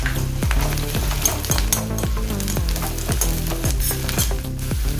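Cumin seeds sizzle and crackle in hot oil in a pan for aloo matar sabzi, a steady loud frying hiss broken by regular stirring scrapes across the whole stretch.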